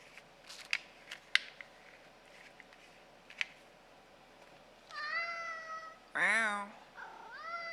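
A cat meows several times in drawn-out, rising and falling calls near the end, preceded by faint clicks and taps in a quiet room with a low electronic hum.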